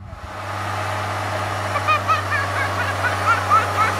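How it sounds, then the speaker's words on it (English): A tractor engine runs steadily during seed planting of a clover, rye and timothy mix, a low constant rumble close by with faint high chirps above it and no talking over it. "Hi, tractor."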